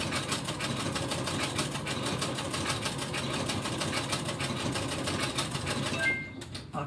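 A sewing machine stitching an improv quilt runs steadily in a fast, even mechanical rhythm of needle strokes, moderately quiet, before stopping abruptly near the end.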